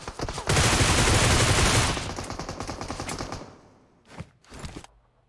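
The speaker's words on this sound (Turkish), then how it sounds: "Herkes bana sıkıyor." Gunfire in PUBG Mobile: a loud, dense burst of rapid shots for about two seconds, then scattered fire that fades, followed by two short separate bursts.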